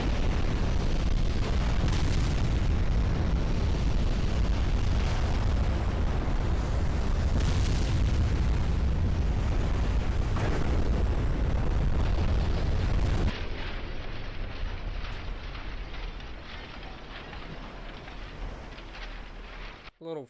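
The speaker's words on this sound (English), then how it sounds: "Prepare to fire the torpedoes." Torpedo explosions in the naval battle game Ultimate Admiral Dreadnoughts, with loud, rumbling booms and bursts over steady battle noise for about thirteen seconds, then a quieter stretch of low rumble.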